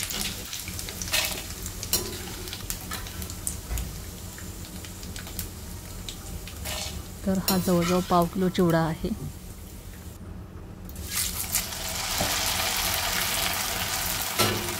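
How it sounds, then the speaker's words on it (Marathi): Corn chivda frying in hot oil over a medium gas flame, a steady crackling sizzle with scattered pops heard under ongoing speech. "तर यामध्ये असा सर्व चिवडा तळून घ्यायचा आहे"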